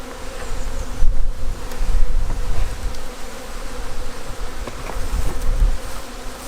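Dense swarm of foraging honey bees buzzing close around a hive at a mating apiary during queen rearing, a continuous droning hum with individual bees passing near, no voices.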